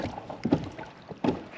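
A pedal kayak moving out across a lake, soft rhythmic churning and water swishes with faint thumps, near and low in level, no talking.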